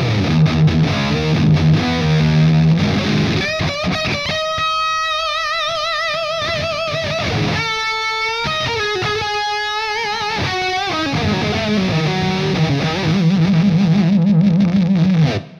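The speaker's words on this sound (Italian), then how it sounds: "Di distorsione ce n'è una svrangata, proprio tantissima." Heavily distorted electric guitar through a mini amplifier with the gain turned up to about three quarters, playing loud, saturated chords and sustained lead notes continuously with no talking.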